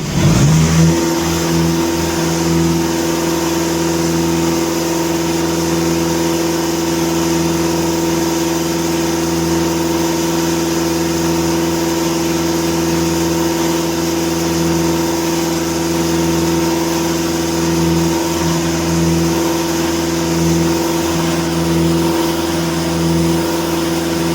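A car engine runs steadily and loudly up close, held at high revs with a constant droning hum throughout.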